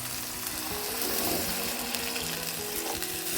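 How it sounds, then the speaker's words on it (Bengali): Spices for a fish curry fry steadily in a pan, a dense continuous sizzle with faint scraping of stirring, close and moderately loud, with no voices. "মশলা কষানো হয়ে গেছে।"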